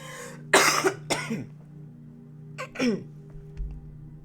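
Two bursts of coughing, a pair of harsh coughs followed by another pair a moment later, close and otherwise quiet.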